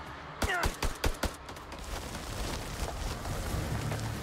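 Gunfire from the video game House of Ashes: a rapid string of sharp, loud shots early on, then a steady rumbling, rain-like wash of game ambience.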